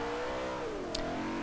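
A BMW M3 E30 engine with race exhaust revving up in Forza Motorsport 4, a throaty exhaust note rising in pitch steadily, loud and close.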